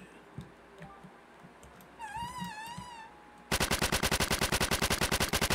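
A Tommy gun in a video game opens up in a loud, sustained full-auto burst of rapid, evenly spaced shots, preceded by quieter clicks and a brief wavering tone.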